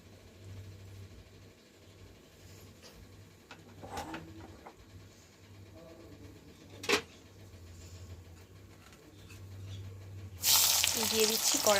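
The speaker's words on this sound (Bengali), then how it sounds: "আমি ফোড়নের জন্য প্রথমে একটু তেজপাতা, শুকনো লঙ্কা দিয়ে দিচ্ছি" Bay leaves and dried red chilies drop into hot oil in a kadai for tempering, bursting into loud, close sizzling near the end after a quiet stretch of faint kitchen clatter.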